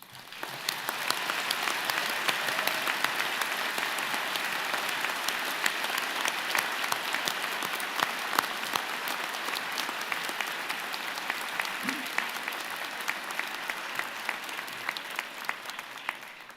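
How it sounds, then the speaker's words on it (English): A vigorous round of applause at a university convocation ceremony: a large audience claps loudly and steadily for about sixteen seconds before tapering off at the end. "I would ask you to join me and the platform party in thanking them with a vigorous round of applause"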